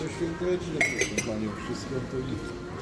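Christmas and New Year dishes clink and clatter in several light, irregular knocks, close by, with soft voices murmuring in the background, inside an E.Leclerc supermarket.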